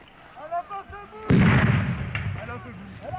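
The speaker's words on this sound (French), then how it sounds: "Attention, grenade." A grenade bursts during a clash at the ZAD protest site in France: a sudden loud, close blast with a rumbling tail that lingers for about two seconds, preceded by a man's speech.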